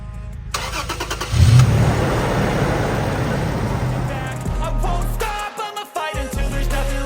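A car engine cranks and catches, then settles into a mid-pitched running rumble with a few revs and dips near the end, loud and close with no talking.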